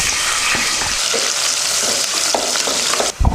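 Onions sizzle steadily in hot oil in a pressure cooker seasoned with cinnamon, cloves, cardamom and curry leaves, a dense close frying hiss with scattered scrapes and clinks of stirring and a sharp clatter at the end.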